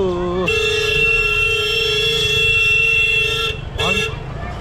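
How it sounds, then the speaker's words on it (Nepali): A car horn blares in one long, loud, steady blast, then gives a short second honk close by. "हर्न पनि यस्तै बजाएको छ"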